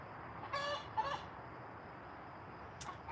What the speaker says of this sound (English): the chicken is, you know, she probably just laid an egg finally after 2 hours.